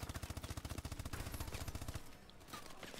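Rapid automatic gunfire in Call of Duty: Advanced Warfare rattles in a steady burst for about two seconds, then cuts off and leaves quieter game ambience.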